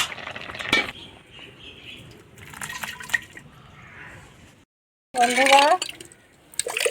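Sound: draining boiled water from a pot of black taro (kochu)

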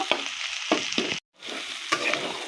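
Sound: bitter gourd frying in pan

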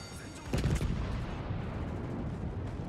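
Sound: naval gunfire in video game World of Warships

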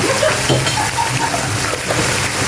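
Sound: squid frying with onions in a pan

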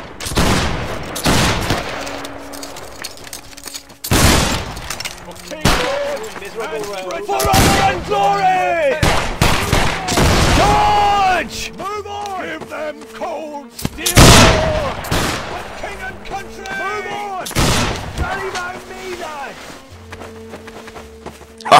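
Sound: musket volley fire in a line battle video game

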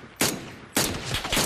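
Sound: gunfire in the video game PUBG

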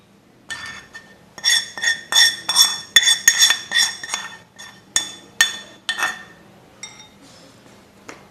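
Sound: stirring mango pickle mixture with hot oil

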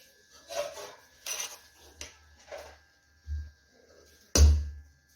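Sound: stirring paneer pulao in a pot

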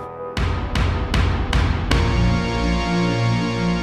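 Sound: pounding stadium-style cheering drums in a rap demo

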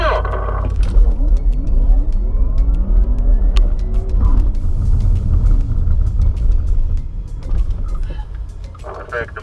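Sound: Porsche Taycan launch control start

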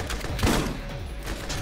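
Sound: shotgun firing in video game Borderlands

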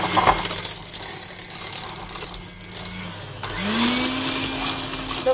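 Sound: mixing raspberry muffin batter

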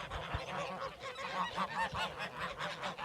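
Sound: geese honking on a snowy farm

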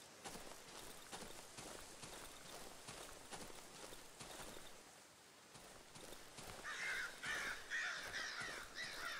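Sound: crows cawing in Darkwood video game

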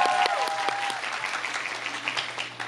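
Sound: concert audience applause for Chanho leaving stage

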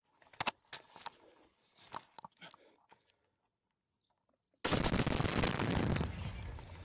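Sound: gunfire on the Lysychansk-Bakhmut road

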